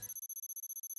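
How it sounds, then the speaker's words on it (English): A frantic electronic phone ringtone from the game Nikke trills in a rapid, even pulse of bright tones, repeating about fifteen times a second, clean and alone after a brief low thump at the start. "As the phone blares out a frantic ringtone, the screen turns on."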